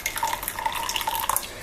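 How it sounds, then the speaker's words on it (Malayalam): Boiling water pours into a small bowl with a brief, close, bubbly trickle and splashing drips that rise and fall unevenly. "നല്ല തിളച്ച വെള്ളം ഒഴിക്കുകയാണ്"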